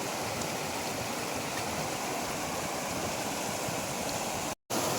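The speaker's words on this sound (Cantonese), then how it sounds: "潺潺嘅水聲" A babbling stream rushes steadily in cold rain, a continuous close wash of water broken by one brief cut to silence near the end.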